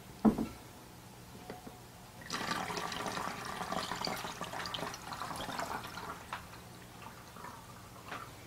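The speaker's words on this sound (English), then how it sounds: "and then add 2 cups of water." Water pours steadily through a funnel into a spray bottle for a few seconds after a soft knock, with a quiet hum underneath.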